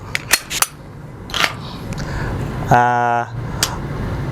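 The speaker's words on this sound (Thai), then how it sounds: "ครับเดี๋ยวขออนุญาตเคลียร์ปืนนะครับ" A pistol being cleared of snap caps gives several sharp metallic clicks and slide clacks, then a brief buzzing mechanical rattle, all close and fairly loud.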